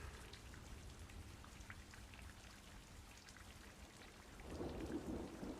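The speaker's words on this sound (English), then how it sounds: "Do you like to play in the rain?" Steady rain falls throughout a thunderstorm in Brisbane, with a low rumble of thunder swelling louder near the end; no voices are present.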